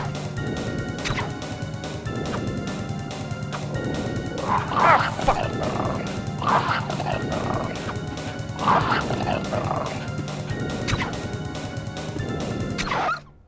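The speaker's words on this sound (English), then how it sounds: "Oh God! Dog!" Dogs attack in Resident Evil 2, with snarling and barking bursts and sharp crashing hits over steady game music, while a voice talks in places.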